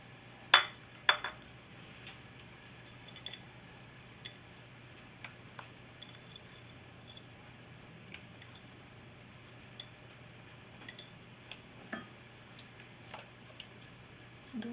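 Dumpling balls being mixed into soup in a pot, with scattered metallic clinks and taps of a utensil against the pot, a couple of sharper knocks at the start, otherwise quiet between strikes.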